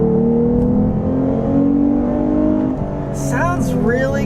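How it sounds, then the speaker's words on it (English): A 2021 Lexus IS 350 F Sport AWD with a V6 engine accelerating in Sport Plus mode on a back road, a steady rising engine drone heard from inside the cabin, with brief squeaky chirps near the end. "you still get some nice V6 sound"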